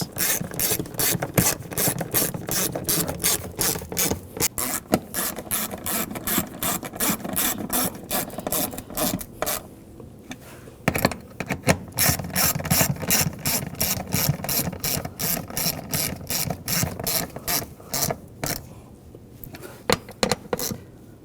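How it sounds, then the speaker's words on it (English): A hand ratchet tightens the nuts on a BMW 328i fuel pump module, giving rapid, steady clicking in repeated bursts with brief pauses between strokes, close and clear. "Tighten down the nuts."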